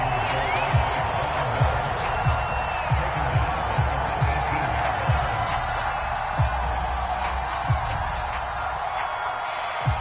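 Crowd noise in the Madden 22 football video game swells in a steady roar of cheering, with scattered thuds and shouts underneath, building ahead of a big third-down play.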